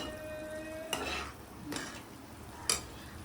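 Water with Kashmiri chili being stirred for mutton biryani, heard as three separate scraping strokes of a spoon against the pot over a low background hiss.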